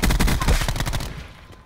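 Rapid burst of gunfire in a battle royale-style shooter match, several loud closely spaced shots ringing out together, then trailing off into an echoing tail.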